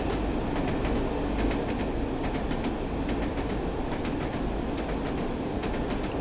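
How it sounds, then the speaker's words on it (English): A Class 101 diesel multiple unit on old jointed rails in Train Sim World 3, its wheels beating a steady clickety-clack over a continuous rumbling train drone, close and prominent throughout. "Loving the clickety-click noise as well. I do really like the clickety-click noise. Yeah, on the old jointed rails there."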